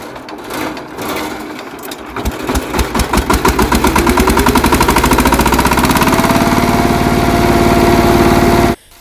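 A 13 HP VST Shakti 130 power tiller engine catches and chugs, its rapid, even thumping speeding up into a loud, steady run before it cuts off abruptly.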